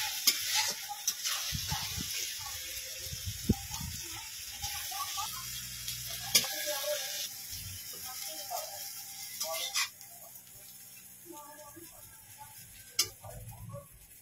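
A spatula stirs greens and shrimp in a pan after cumin, fennel and coriander powder go in, making scattered scraping and ticking knocks over a soft sizzle, fairly quiet and close.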